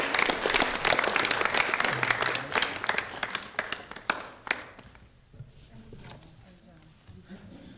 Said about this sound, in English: I think that they deserve an amazing round of applause.